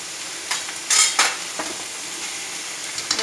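Grated coconut being lightly sautéed into a goat blood fry, a steady close sizzle with quick spatula scrapes and knocks against the pan, heard alone without voices.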